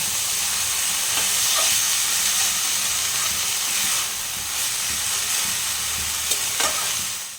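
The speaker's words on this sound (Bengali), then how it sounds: "ডুমুরটা ছাড়ার পরে একটা আমাকে ভালোভাবে ভেজে নিতে হবে" Figs frying in a pan, a continuous hissing sizzle with faint stirring scrapes and a few small clicks, steady and fairly close, with no talking.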